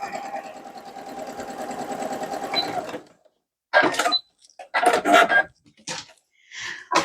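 Sewing machine stitching scrap fabric, a steady mechanical whir running alone for about three seconds before stopping, followed by scattered clinks and handling noises.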